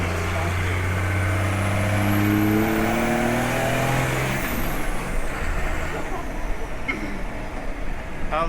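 A truck on the road, its engine running steady with a low harmonic hum that rises and then gives way to rough road and wind rumble as it drives along; a voice may speak over it.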